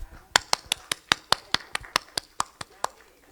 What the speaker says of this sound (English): if we can give a round of applause to our wonderful panelists